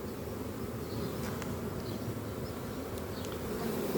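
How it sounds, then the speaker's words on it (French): A honeybee swarm gathering during a swarm capture at Villeneuve-Saint-Georges, France, makes a steady, dense buzz that holds low and constant throughout, moderately loud and close, with no voices. "il y a les abeilles sur la branche au fond"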